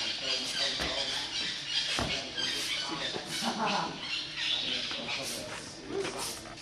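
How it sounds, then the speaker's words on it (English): Birds chirp and squeak intermittently inside a reverberant temple in Cambodia, scattered high calls rising over a soft background murmur of faint voices. "We're still in this wonderful temple with bird sounds and everything. Listen to it, how nice."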